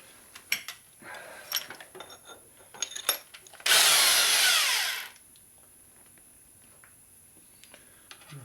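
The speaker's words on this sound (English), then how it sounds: "I'm going to use the fixed reamer again." A fixed reamer works a part from a 1961 Harley Sportster XLCH transmission, with scattered metallic clicks and taps, then a loud steady grinding burst of about a second and a half before fading to quiet handling noises.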